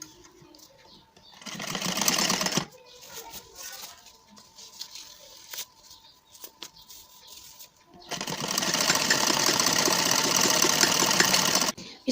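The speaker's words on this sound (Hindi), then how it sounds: "एक पैर की सिलाई मार देते हैं।" A sewing machine stitches a salwar in two bursts of steady, rapid, loud whirring, with quiet handling sounds between runs.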